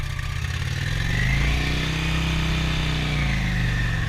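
A carbureted 750 motorcycle engine runs steadily and loud up close, a continuous low rumbling drone with a slight swell in pitch midway, no voices over it.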